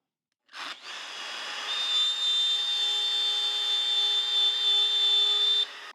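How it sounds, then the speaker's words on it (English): Wood router cutting eye shapes out of a template, starting abruptly and settling into a loud, steady high-pitched whine with a constant motor tone until it cuts off. "Look how quickly I can route out the eyes on this."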